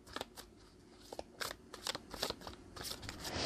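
Tarot cards being shuffled by hand for a reading, a quiet close series of crisp riffling flicks and snaps in an uneven rhythm, with no talking.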